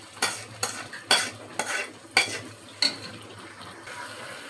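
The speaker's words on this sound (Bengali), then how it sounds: "এখন আমি নেড়ে দিব।" Rice being stirred into beef biryani meat frying in mustard oil in a pot: a run of scraping, clattering spoon strokes at an irregular beat, close and fairly loud over a faint sizzle, with no talking.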